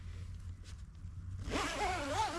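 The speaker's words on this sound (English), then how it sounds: "you could unzip all this side as well" A zipper pulled open along the side of a YOTO PRO tent, starting halfway through as a close, rasping sweep that runs steadily to the end over quiet outdoor background.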